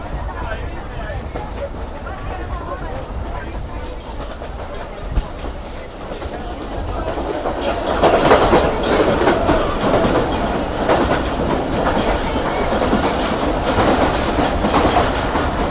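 Islamabad Express passenger train rolling through the Suhawa tunnel, a steady enclosed rumble with rhythmic wheel clatter that grows louder and denser about halfway through, continuous and close.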